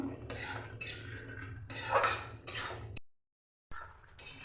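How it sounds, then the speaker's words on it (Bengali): A spoon scrapes and clinks against a pan while ridge gourd and egg curry is stirred, soft scraping strokes in quick bursts followed by a short silence. "ঢাকনা খুলে এভাবে নেড়ে দেবো"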